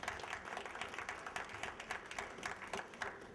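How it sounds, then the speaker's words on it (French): Faint, distant applause from an audience at a gathering, a dense patter of many hands clapping steadily with no voices over it. "Applaudissez pour elle."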